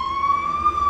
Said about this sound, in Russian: И скорая, и пожарная.